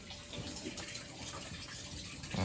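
Water runs steadily through newly installed washer hose connections inside a shed, a continuous close flowing hiss that swells slightly louder toward the end.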